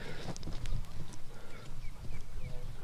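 Polo pony hooves thud on the grass field during a pony change, a loose irregular clip-clop close by, with talking over it.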